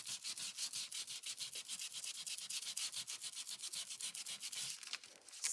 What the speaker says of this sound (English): So be generous with your sanding.